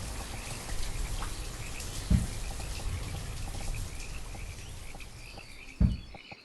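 Rain falls in the city-building game Banished as a steady, dense hiss with a couple of soft thuds, filling the clip without voices.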